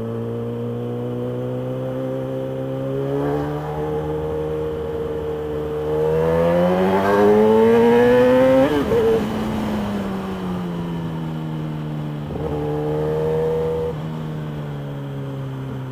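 A Kawasaki ZX-10R Anniversary Edition sport motorcycle engine drones and revs, pitch climbing and falling as it accelerates, then settles back to a steady hum; no voices.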